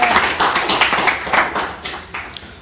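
Applause from a small group during a live phone-repair session, a cluster of hands clapping at an irregular pace for a few seconds, fairly close and moderately loud, with no speech over it.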